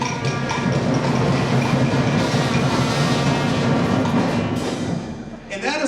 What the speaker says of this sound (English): if you put all those instruments together and they play it in an unorganized way, it sounds like this